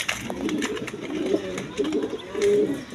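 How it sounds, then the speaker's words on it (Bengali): A pair of Afsan Giriial pigeons, a male and a female, coo in low, repeated rolling calls that swell and fade over steady background noise, with faint speech in the distance. "দর্শকবৃন্দ এখানে এক পেয়ার আফসান গিরিজিয়াল কবুতর আছে"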